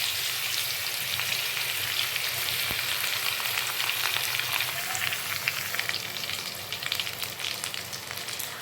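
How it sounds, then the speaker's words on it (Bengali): Grated garlic and ginger sizzle steadily in hot white oil, a dense, even frying hiss that holds close and loud throughout with no voices. "আদা রসুনকে হালকা ভেজে নেব"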